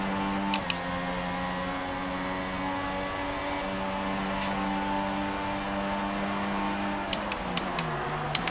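Engine of an F1 car in the F1 2016 racing game, a steady high whine with harmonic bands that rises in pitch near the end as the car accelerates, loud and continuous, with no talk.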